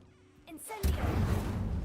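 Incendio fire spell cast in the Hogwarts Legacy video game: a sudden loud burst of roaring, crackling flame that erupts after a brief whoosh and holds steady, following a short spoken line.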